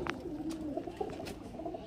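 Flying pigeons give a steady, soft, low coo that rolls on throughout, close and moderately loud over faint background noise.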